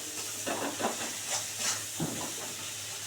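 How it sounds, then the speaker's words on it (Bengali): Ground mustard spice paste from the mixer hits hot oil in a pan for tilapia curry, giving a steady steamy hiss with several louder sizzling bursts, close and without speech. "এবার মিক্সিতে করা মশলাটা দিয়ে দেবো"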